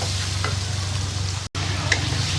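Chicken sizzling in masala in a karahi, a steady close frying hiss with faint occasional stirring scrapes.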